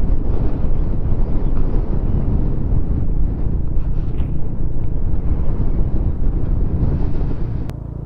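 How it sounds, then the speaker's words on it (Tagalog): Strong, constant wind roaring and buffeting the microphone on Mt. Tambara in Tubungan, Iloilo, loud and unbroken throughout. "Grabe, lakas ng hangin dito."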